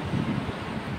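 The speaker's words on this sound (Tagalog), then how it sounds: "Maganda dito kasi mahangin." Steady wind blowing at the beach, a continuous low rushing buffet against the microphone with no breaks and no talking.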